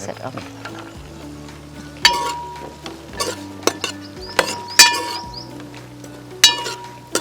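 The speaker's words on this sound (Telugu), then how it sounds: "నెయ్యిలో ఒక 2 నిమిషాలు ఫ్రై చేసుకుంటే చాలు, సరిపోతుంది." Carrots frying in ghee in a pan give a steady low sizzle, with scraping stirs and sharp spoon clinks against the metal at irregular moments, fairly close and without speech.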